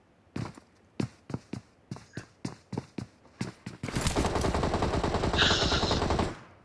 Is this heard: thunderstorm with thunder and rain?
no